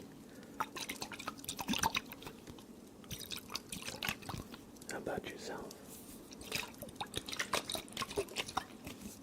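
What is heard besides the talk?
water dripping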